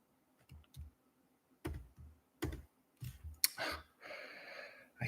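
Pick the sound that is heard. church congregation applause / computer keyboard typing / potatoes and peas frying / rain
computer keyboard typing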